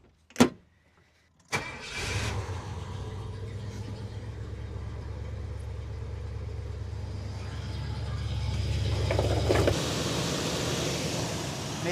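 A 1978 Ford F150 Supercab fitted with a riding mower fuel pump cranks steadily for about eight seconds after a couple of sharp clicks, with a continuous low churning that grows slightly louder near the end.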